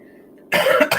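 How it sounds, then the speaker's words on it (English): Two quick, rough coughs close to the mic follow a brief moment of faint background noise. "I have been coughing my head off"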